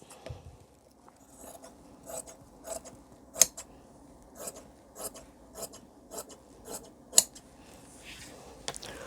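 Scissors snip through fabric for the back piece of a blouse, a series of short, crisp cuts at an uneven rhythm, close and fairly quiet, with no voice over them.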